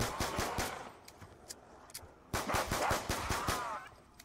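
Pistol gunfire in Black Ops 2 Zombies at the Bus Depot: bursts of sharp, close shots, several rapid rounds, a pause, then another volley of quick repeated shots.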